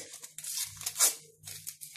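Tearing open a small sachet of baking yeast for pastries, a quick papery rip with crinkling that peaks midway, close and fairly faint over a low hum.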